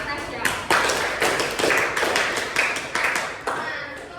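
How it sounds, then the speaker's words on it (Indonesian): A classroom of students applauds one of their classmates, dense overlapping hand claps sustained for about four seconds in close, lively bursts. "tepuk tangan buat Natasha"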